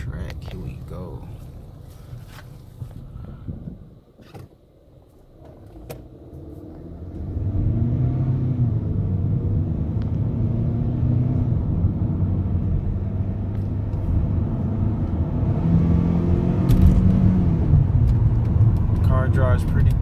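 A car bought at a Manheim auction pulls away and drives down the test track, its engine rumbling steadily and building slightly as it gains speed, with a voice talking over it.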